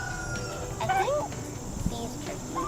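Turkeys on a farm give a few short, warbling calls close by, over a murmuring outdoor background.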